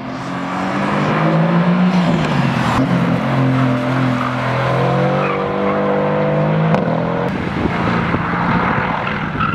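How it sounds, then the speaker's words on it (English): A loud 2018 Mercedes-AMG GT R engine roars continuously at high revs, pitch rising and falling through gear changes, with tires squealing as it speeds around a race track. "I have the mighty Mercedes AMG GTR, and I'm going to be taking it on track"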